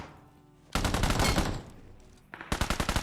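Automatic gunfire in a PUBG-style battle royale game, two loud bursts of rapid shots, the second a clear rhythmic string of about eight rounds, with no talking.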